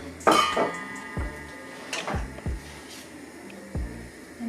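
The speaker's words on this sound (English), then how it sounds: "Just keep on stirring for a bit" Teff porridge stirred in a pot, heard as several sharp metallic clinks and knocks of a utensil against the pot, spaced irregularly over quiet background.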